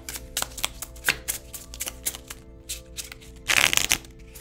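Tarot cards being shuffled in a series of crisp riffling bursts, with a louder, denser shuffle near the end; close and clear, no talking.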